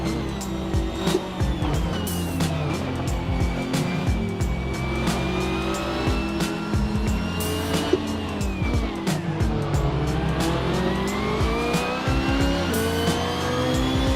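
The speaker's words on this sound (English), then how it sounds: "A little bit of skidding right there." A BMW M3 GT2 racing around the Nordschleife in the Assetto Corsa game, its engine droning and shifting pitch continuously with a brief tire skid mixed into the loud, steady car noise.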